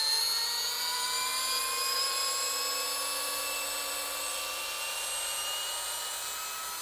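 A Greenworks 24V brushless drill driver backing out a screw at its lowest speed setting, a steady high whine held near and alone for several seconds before easing slightly toward the end.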